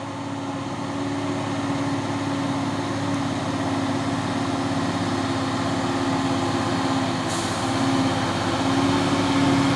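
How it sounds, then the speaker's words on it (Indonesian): A CPO palm-oil tanker truck fitted with an intercooler runs its diesel engine in a steady, close rumble with a low hum, continuous for the whole stretch with no talking. "Dan ini juga ada satu unit truk tangki CPO pemain intercooler."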